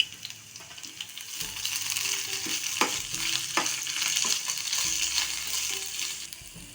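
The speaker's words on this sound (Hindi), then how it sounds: "अब इसमें हम कटा हुआ लहसुन डाल देंगे। ये बीच से कटी हुई 3 हरी मिर्च, इनको भी अच्छे से भून लेंगे।" Chopped garlic and slit green chillies fry with onions in a pan for dhaba-style okra, giving a steady close sizzle with clattering stirring strokes of a spoon against the pan.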